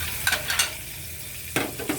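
Margarine melts and sizzles in a hot pan while cooking pork steak, a soft continuous hiss with a few brief scraping strokes of a utensil, close and moderately loud.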